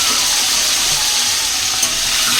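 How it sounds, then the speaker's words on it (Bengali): Potato pieces frying in hot oil tinged with turmeric, a loud, steady close-up sizzle that carries on without a break, with faint stirring underneath. "তেলের মধ্যে একটু হলুদ দিয়ে দিয়েছিলাম আর এই যে আলুগুলোকে ভাজতে বসিয়ে দিলাম।"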